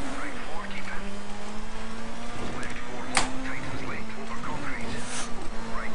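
Rally car drifting in the DiRT 3 racing game, a steady engine drone with a brief sharp tire squeal midway, under faint background talk.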